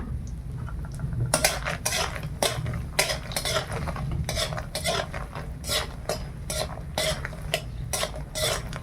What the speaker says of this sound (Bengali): তার আগে বড়িটা ভেজে নেই।